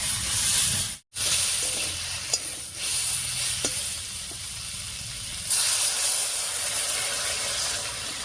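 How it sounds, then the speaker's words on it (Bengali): Water hits a hot pan of frying ground spice paste for a Bangladeshi-style tangra fish curry, giving a loud, continuous sizzle and hiss with faint stirring scrapes close by. "এবারে ঝোলের জন্য জল দেব।"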